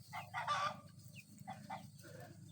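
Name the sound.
chickens clucking and rooster crowing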